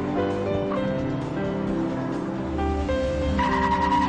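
A Chevrolet Camaro V8 roars through a hard launch, a loud, sustained throaty engine note that climbs and shifts pitch, with no voices.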